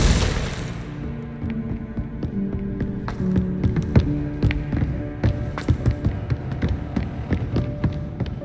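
Spell effects fire in the video game Hogwarts Legacy, a busy run of sharp magical bursts, impacts and clattering hits over a low rumble, with a loud whoosh at the start.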